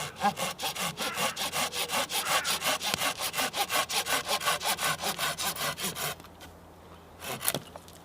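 Handsaw strokes rasp rhythmically through a pine root, about two per second, steady and close for roughly six seconds before stopping, followed by a few faint handling knocks outdoors.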